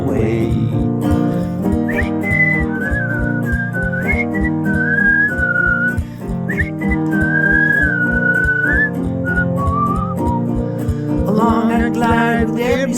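Someone whistles a bright, melodic tune over a bouncy instrumental backing, the notes gliding up and down in clear phrases.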